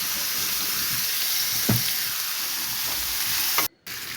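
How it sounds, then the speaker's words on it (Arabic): Red and green peppers frying in olive oil in a pan, stirred with a steady loud sizzle and hiss throughout, a single utensil scrape near the middle and a brief dropout near the end. "غنضيف الفلفله حمراء وخضراء على هاد الشكل هذا. نحركوها هي"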